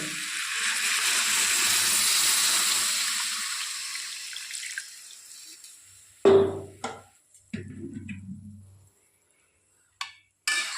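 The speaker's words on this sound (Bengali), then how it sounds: "এবার আমি এর মধ্যে দিয়ে দেবো জল" Water poured into a pan of spiced papaya and taro, a steady gushing pour that swells and fades over a few seconds, then sharp bursts of sizzling and bubbling as it meets the hot pan, followed by quiet and a few clinks.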